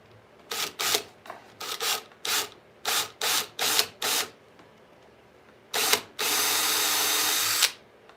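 A power drill bores into wood in a woodshop, a series of short separate bursts that start and stop in a stuttering rhythm, then one longer steady run of close, loud drilling.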